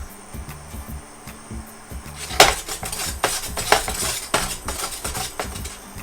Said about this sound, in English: So I'm just going to stir it around to mix it in.